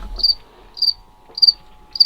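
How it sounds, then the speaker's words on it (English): A cricket inside a camper chirps in short, shrill bursts about every half second, close and clear against an otherwise quiet background. "I think we have a cricket in our camper somewhere."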